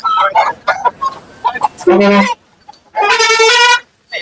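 Rooster crows ring out twice, loud and close, amid bustling voices and clucking at an outdoor rooster market in Moonampalli, India.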